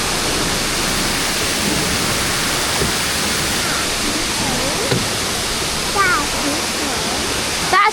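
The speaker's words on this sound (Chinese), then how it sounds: "小瀑布" A small waterfall at Takachiho in Japan gives a steady, loud, close roar of falling water throughout, with a brief voice faintly audible near the end.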